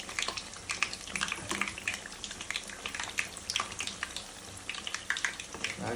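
Potato bajji frying in hot oil, a soft, fairly quiet sizzle dotted with sharp crackles and pops as water drops hit the oil, close by with no talking.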